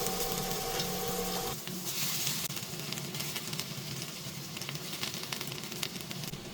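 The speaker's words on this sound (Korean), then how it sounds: "팬에 올리브 오일을 두르고 다진 마늘을 볶다가 양파와 양배추, 브로콜리를 차례로 볶아줘요" Garlic, onion, cabbage and broccoli stir-fry in olive oil in a pan, giving a steady, dense sizzle and crackle with faint scraping throughout. A brief hum runs under the first moment, then the frying carries on alone.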